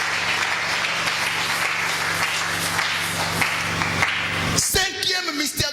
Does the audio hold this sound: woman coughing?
no